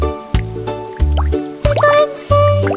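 Water drops falling in a children's picnic-in-the-park song: four separate drips, each a short plop with a rising tone, landing roughly every second over a sustained musical backing.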